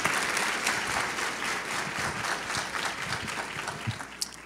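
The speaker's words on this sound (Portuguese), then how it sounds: "Auditor lotado, aplauso." A packed auditorium at a labor union congress panel bursts into sustained, dense applause, many hands clapping loudly and evenly before tapering slightly at the end.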